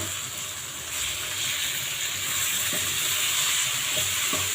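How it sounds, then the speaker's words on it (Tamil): Prawns sautéing in a hot pan for a Tamil prawn thokku, giving a steady broadband sizzle with a few soft spatula scrapes and taps near the end, close and fairly loud. "நம்ம எறாவை போட்டு வதக்கிடலாம்"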